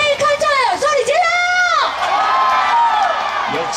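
Concert crowd at a live radio-show performance screaming and cheering, with high-pitched shrieks and whoops from many fans rising and falling, loud and close.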